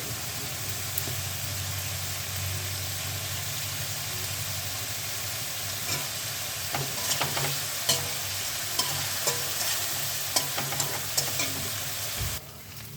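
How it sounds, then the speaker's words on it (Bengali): Potatoes sautéed with turmeric, salt and spices in a pan for Bengali sarpunti fish curry, with a steady sizzle throughout and scattered spatula clicks and stirring knocks growing busier in the later half, close by with no speech. "কষানোর সময় আলুগুলো দিয়ে দিচ্ছি"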